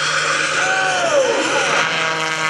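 Gary Ward's aerobatic airplane roars past at full throttle during an air race at the Greenwood Lake Airshow, a loud, steady engine drone with a pitch that sweeps downward as it goes by, close and continuous.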